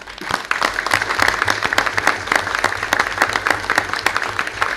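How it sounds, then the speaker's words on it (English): Applause at a city council meeting for the town's flag crew; brisk, dense clapping from a room of people, loud and continuous for several seconds. "let's give them a round of applause"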